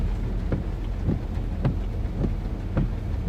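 Steady rain falls during a storm in Arkansas or Mississippi, heard from inside a vehicle with soft rhythmic thumps about every half second.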